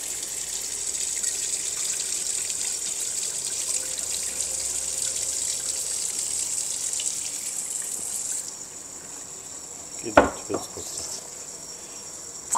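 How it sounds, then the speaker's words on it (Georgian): Warm water poured into an Uzbek kazan of rice and broth for plov, a steady close gushing stream running for several seconds, then breaking into a few sharp splashes and clatters near the end. "აი ვიწყებთ უკვე ამ წყალს გადავასხავთ."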